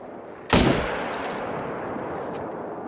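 A single sharp, loud rifle shot from a .300 rifle at a cape buffalo in a hunting game, a sudden crack with a long rolling echo that fades slowly.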